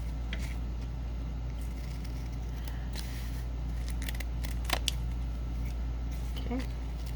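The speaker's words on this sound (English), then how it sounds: "I'm going to trim this bottom and make sure that it's even" Scissors trimming the bottom edge of a paper doily pocket, a few quiet snips and paper crackles close by over a low steady background hum, one sharper cut standing out near the middle.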